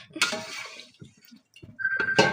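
Cooking pots from Saudi Arabia clink and clatter together in a home kitchen while bulgur and meat are being cooked, producing a few sharp metallic knocks with short pauses between them, close and fairly loud.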